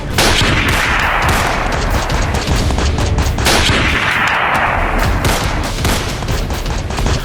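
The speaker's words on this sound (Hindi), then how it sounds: "जख्मी विधायक को 5 किलोमीटर पीछा करके फिर गोलीबारी की गई" Rapid bursts of gunfire crackle and boom loudly in two long volleys. The shots are dense and overlapping, with no voices.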